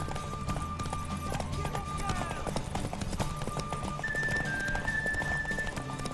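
Horse hooves clip-clopping in The Witcher 3: Wild Hunt, a steady rhythmic trot under game music and ambient sound, with voices speaking over it.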